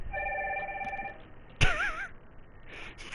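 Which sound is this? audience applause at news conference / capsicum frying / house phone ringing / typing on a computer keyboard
house phone ringing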